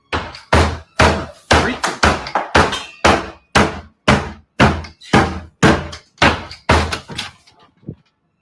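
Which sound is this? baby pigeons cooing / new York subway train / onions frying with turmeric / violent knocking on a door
violent knocking on a door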